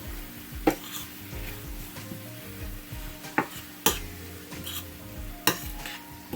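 Shrimp curry with garlic and spices stirred in a pan, soft sizzling under low background music, punctuated by a few sharp metallic spoon clinks against the pan.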